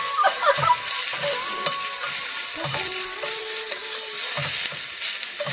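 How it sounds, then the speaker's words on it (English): Miniature rice noodles stir-fry in a tiny pan, a loud, continuous sizzle close by with quick, repeated scraping and tapping strokes of stirring throughout. "So quick stir fry, quick, quick"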